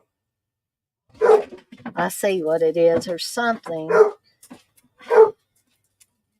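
Several loud, close dog barks, sharp single yaps spaced apart, with a person talking in between them.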